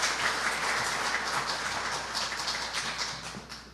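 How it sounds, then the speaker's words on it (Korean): Audience applause greets a new co-president coming up to give her response at a Korean TV station's anniversary and inauguration thanksgiving service, a steady broadband patter of many hands lasting throughout without voices. "박수로 맞이해 주십시오"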